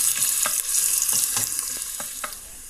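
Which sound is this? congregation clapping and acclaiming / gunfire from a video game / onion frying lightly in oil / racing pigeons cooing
onion frying lightly in oil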